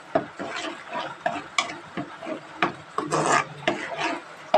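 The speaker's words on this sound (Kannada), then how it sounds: "ಇದನ್ನೀಗ ಒಳ್ಳೆ ಮಾಡಿ ಫ್ರೈ ಮಾಡುವ ಎಣ್ಣೆಯಲ್ಲಿ." Masala for an egg green gravy is stirred as it fries in oil in a pan, with repeated close scraping and rasping strokes of the spoon over a soft sizzle, steady and rhythmic, with no talking.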